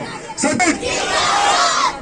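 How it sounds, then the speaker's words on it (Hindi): A large crowd at an Indian political rally for Sachin Pilot roars a chanted slogan in unison, a loud, sustained surge of many voices lasting nearly two seconds. "दोनों हाथ ऊंचे करके आवाज से, जोरदार आवाज से नारा लगाए, सचिन पायलट।"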